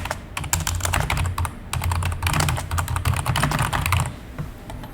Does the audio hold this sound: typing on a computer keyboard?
yes